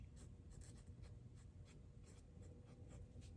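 Pen or pencil writing by hand in a box on paper, with close, faint scratchy strokes in a steady rhythm and no voices.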